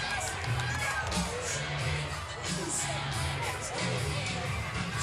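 A sold-out crowd at Homewood Field during the NCAA women's lacrosse championship between Boston College and North Carolina keeps up a steady, distant murmur and cheer while a commentator talks over it.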